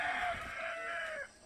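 A rooster crows at sunrise on a farm in Danao, Cebu, one long drawn-out call lasting over a second, loud and close, with no talking.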